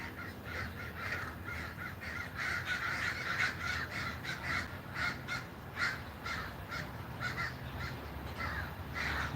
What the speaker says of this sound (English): Here come the crows